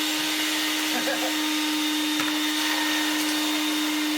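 A restored 1990 Premium Vax 121 3-in-1 vacuum cleaner runs with a loud, constant whine and motor hum, nearby and unbroken throughout.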